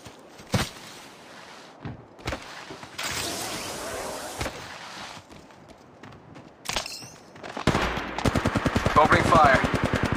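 Gunfire in the mobile shooter Apex Legends Mobile: scattered single shots early on, then a loud, rapid automatic burst with dense repeated cracks near the end.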